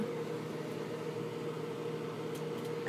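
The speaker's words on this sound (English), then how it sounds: "I can hear it crackling." A microwave oven hums steadily with a low mechanical drone while heating nachos, with a few faint crackles and pops near the end.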